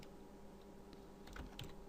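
Keys tap on a computer keyboard while someone scripts in Unreal Engine 4. The typing is faint and sparse, a few soft clicks over low background hum, and most of them cluster near the end.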